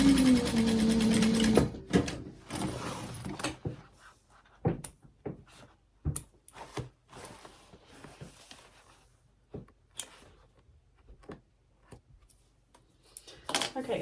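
Short sewing-machine run at the start while top-stitching a fabric gift bag, a steady motor whir lasting under two seconds, then scattered clicks and light handling taps of fabric and machine parts with quiet gaps between.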